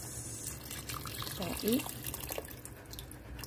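Tap water runs steadily into a pressure cooker being filled for lotus root soup, a continuous rushing stream with brief splashy gurgles as a person talks over it.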